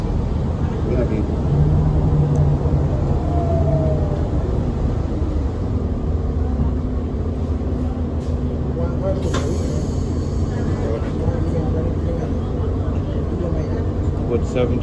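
2015 NABI 40-foot low-floor Gen III diesel transit bus on route, heard from inside: a continuous low rumble and road noise from the moving bus, with passengers talking over it.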